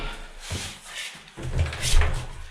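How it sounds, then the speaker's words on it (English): An interior bedroom door being swung shut and opened again during DIY room preparation, with a couple of soft thuds and creaks close by, no talking. "So the door will be closing like this."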